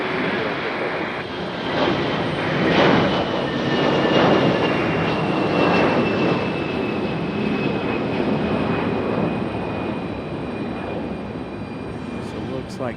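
A fixed-wing airplane at Raleigh-Durham International Airport during stormy weather, its engine roar loud and steady throughout, swelling slightly then easing as it passes.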